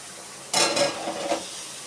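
Fried eggs and potatoes go into hot spiced oil in a pan, with a sudden burst of sizzling and a couple of stirring scrapes before it settles into a quieter, steady fry.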